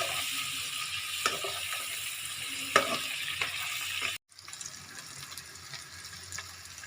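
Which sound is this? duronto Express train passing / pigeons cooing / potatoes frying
potatoes frying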